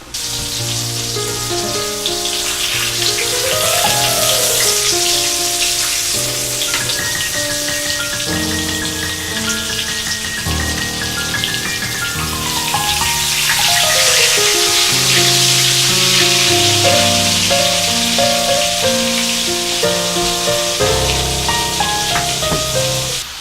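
Jagerschnitzel frying in hot oil gives a loud, steady, full crackling hiss. It runs without a break for the whole stretch under prominent background music, with no voices.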